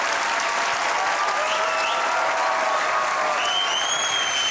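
A studio audience at a comedy talk show gives loud, sustained applause, dense and even throughout, with faint tonal whistles or cheers rising above the clapping near the end.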